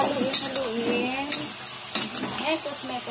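Chicken curry is stirred in a pan with a close sizzle and quick scraping strokes, while a voice talks briefly over it.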